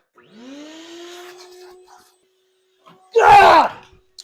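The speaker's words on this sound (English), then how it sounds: "Let's get the vacuum out, clean it, suck all that up." Vacuum cleaner sucking up a mouse nest inside a Trans Am car: the motor whines up to a steady hum, goes quiet, then gives a loud close rush of suction.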